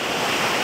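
Water churning in a deep, icy, crystal-clear pool in the Taskyl mountains, a brief burst of steady broadband rushing and bubbling, close and loud.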